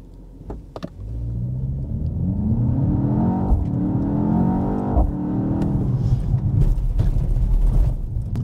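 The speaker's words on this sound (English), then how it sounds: "Let's see how the car takes off." A 2024 BMW X2 M35i launches from a standstill in sport mode, its engine note rising loudly through the revs with a deep rumble, heard close from inside the car with no talking.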